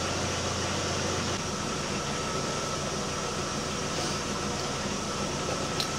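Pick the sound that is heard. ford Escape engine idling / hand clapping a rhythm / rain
ford Escape engine idling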